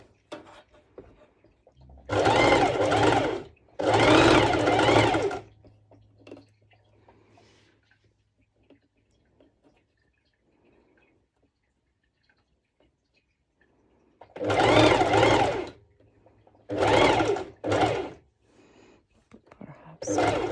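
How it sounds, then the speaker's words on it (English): A sewing machine stitches the bust of a sporty duo mesh top with binding straps. Two clusters of loud, close stitching runs are separated by a long, nearly silent stretch. "I will just do another bust stitching underneath"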